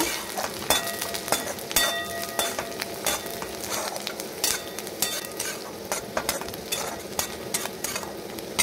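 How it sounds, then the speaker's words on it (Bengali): Garlic and green chilli being stirred in a frying pan for flattened rice, a steady soft sizzle with repeated spatula scrapes and clinks against the pan, close and without talk. "আমি রসুনটা দিয়ে দিচ্ছি, কাঁচা লঙ্কা, এটাকে মিক্স করে নেব।"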